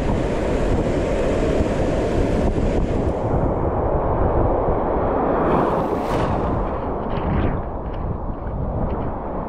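Loud, continuous roar of crashing ocean waves and churning surf on the shore of Calaguas Island, Philippines, with heavy wind buffeting the microphone throughout.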